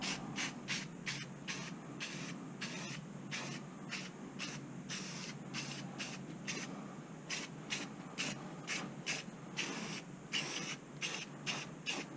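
Rapid repeated hissing bursts from a spray paint can coating a Corvette C5 brake caliper, short and rhythmic, continuing steadily over a low background rumble with no talking.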